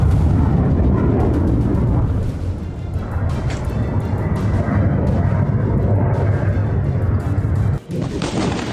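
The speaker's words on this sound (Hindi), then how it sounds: "राजधानी तेल अवीव में मिसाइलों ने बरपाया कहर।" Heavy, sustained rumbling roar from Iranian ballistic missile strikes on Tel Aviv, with dense low booms and crackling bursts running almost continuously, then a brief dip near the end before the din resumes.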